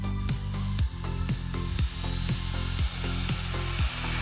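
An MJX Hyper Go RC truck's electric motor runs at full throttle, a loud steady whine close by with a regular pulsing thud roughly once a second, no talk.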